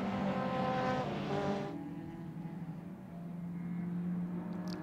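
Race cars at a Donington Park trackday round pass close by, led by a Volkswagen Golf overtaking another car, with a loud harmonic engine scream that cuts off abruptly and gives way to a fainter droning engine in the distance.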